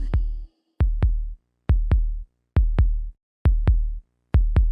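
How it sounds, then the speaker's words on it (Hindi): A steady heartbeat thumps in paired lub-dub beats at a regular, fairly slow pace, deep and clear with silence between each pair. "और अब मैं अपने दिल की धड़कन सुन सकती हूँ।"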